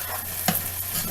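Turmeric, garlic, oregano and cumin stirred into a hot pan for a vegan Cuban picadillo, giving a steady low sizzle with one brief louder scrape of stirring midway, with no voices.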